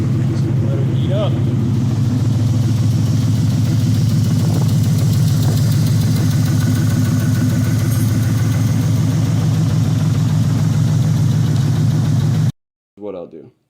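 A Cobra's engine idles steadily while warming up, a loud, close, continuous low rumble with a faint voice near the start, before cutting to near silence and a brief burst at the end.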